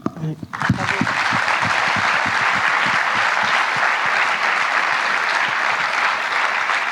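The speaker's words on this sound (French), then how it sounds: "je souhaite vous applaudir" After a brief spoken word, a large crowd at an awards ceremony breaks into loud, sustained applause that continues steadily to the end.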